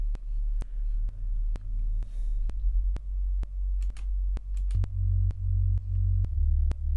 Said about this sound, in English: So this is really to bring in the weight underneath the sub,